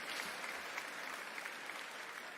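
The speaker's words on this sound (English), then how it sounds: "Yeah, it's okay to clap." Audience applause at a Jackson State University Fall 2021 commencement: steady, even clapping from a large crowd, faint and distant, continuing throughout without pause.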